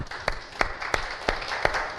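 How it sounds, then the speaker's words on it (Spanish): A church congregation applauds steadily, a dense patter of many hands with a few sharper rhythmic claps standing out over about two seconds. "Dele un aplauso al Señor, mi hermano."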